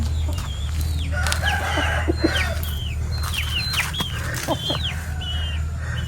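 A fighting rooster crows amid a yard full of clucking hens and chirping birds, with a steady low hum running underneath.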